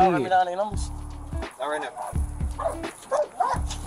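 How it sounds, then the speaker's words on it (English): An angry dog barks in repeated sharp bursts, close and loud, while a person talks over it. "That is one pissed off doggy"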